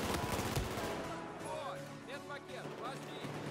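Rapid Battlefield 4 gunfire crackles through a 5v5 match, dense bursts of shots over game ambience with a voice talking underneath.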